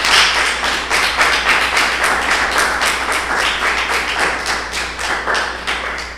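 A church congregation applauds together, a dense, steady wash of many hands clapping close by and at a fairly even level for several seconds, with no talking over it.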